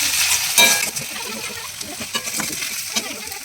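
Garlic and ginger paste frying in a pan, a steady close sizzle with a brief spatter near the start and a faint voice under it.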